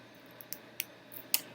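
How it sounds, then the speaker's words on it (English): Scissors snip thread during hand-needle sewing prep, a few sharp, light cuts spaced apart, close and fairly quiet against a faint background hiss. "So once you have that, you're going to cut it."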